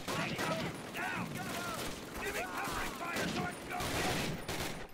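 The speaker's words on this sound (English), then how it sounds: "I'm trying to give you covering fire" Dense, continuous World War II battlefield gunfire from Call of Duty: United Offensive, with overlapping rifle and machine-gun bursts close by and voices shouting through the din.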